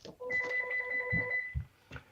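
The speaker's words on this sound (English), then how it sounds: "doorbell's ringing" A doorbell rings indoors in a steady electronic tone lasting about a second, followed by a few soft thumps and muffled movement.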